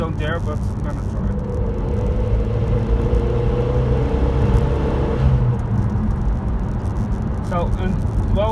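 Renault Megane 3 RS Turbo accelerating at full throttle in third gear, a continuous loud engine drone and rumble heard from the cabin, steady for the whole stretch with faint rising whines at the start and end.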